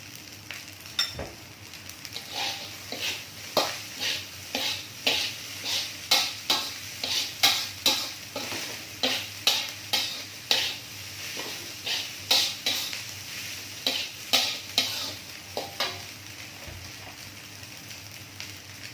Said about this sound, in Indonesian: harus terus diaduk-aduk sampai bumbunya rata